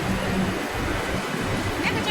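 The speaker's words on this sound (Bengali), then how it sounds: "এটাই সেই টলিগঞ্জ মেট্রো" A Kolkata metro train at Tollygunge station gives off a steady, loud rumble and rush that fills the whole stretch, with faint voices mixed in.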